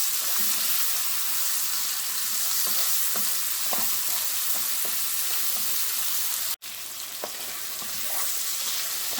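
Tomatoes seasoned with salt and pepper fry in a pan for a simple pasta sauce, a steady close sizzle with soft scraping stirs and one brief dropout, no talking.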